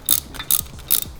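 A socket wrench ratchets on a ground connection during a Yamaha R3 motorcycle build, making three quick, close bursts of crisp clicking at a steady rhythm.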